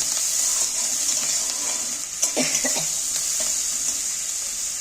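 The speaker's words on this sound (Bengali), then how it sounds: "এইবার তেলের মধ্যে পেঁয়াজটাকে একটু নাড়াচাড়া করে ভেজে নেব" Onions sizzle in hot oil with a soft, continuous frying hiss, while a few brief scraping clatters of stirring come through midway.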